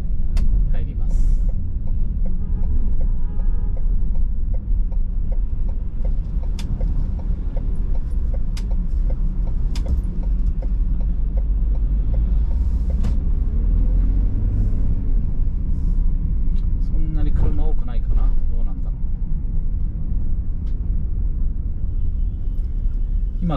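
Car driving along Second Avenue in midtown Manhattan, New York, on a weekday afternoon, with a steady low traffic rumble and occasional brake hiss and passing vehicles. A voice talks throughout.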